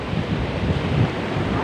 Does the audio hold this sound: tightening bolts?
no